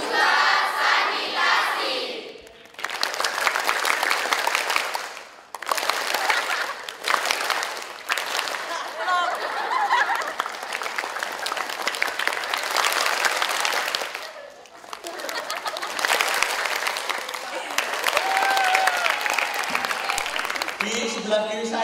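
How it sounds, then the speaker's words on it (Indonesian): Workshop participants at a community sanitation jamboree clap together in bursts, pausing briefly between rounds of loud group hand clapping, with a voice speaking faintly underneath. "Mulai tepuk tangan"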